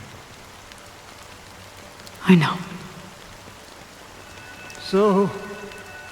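Steady rain falls in a Honkai Star Rail game scene, a soft continuous patter under two brief spoken voices.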